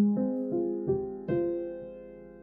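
Piano notes from a Kontakt sampled piano instrument with its tone control turned dark, a short rising phrase of five mellow, muffled notes played close and fairly soft, the last note left ringing out, no talking.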